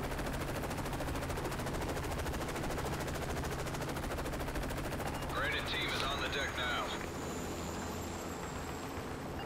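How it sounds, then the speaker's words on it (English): Automatic gunfire rattles through a Modern Warfare 3 firefight, a steady dense roar of shots and combat noise throughout, with a sharper burst of effects midway. "We're taking fire!"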